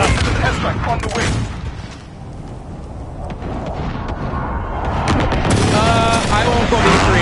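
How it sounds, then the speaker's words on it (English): Airstrike explosions in the online shooter Call of Duty: Modern Warfare, heavy booming blasts and rumbling bursts layered with gunfire, loud and continuous with a brief lull midway, with a voice speaking over part of it. "Airstrike on the way."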